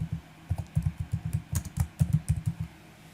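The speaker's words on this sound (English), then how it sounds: "We're just typing it." Rapid clicking keystrokes on a computer keyboard, close and crisp, in uneven bursts with brief pauses between runs of typing.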